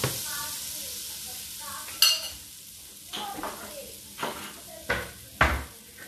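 Butter sizzling in a pan on the stove, a steady hiss with bright scrapes and clanks of a utensil against cookware at intervals, fairly close and clear.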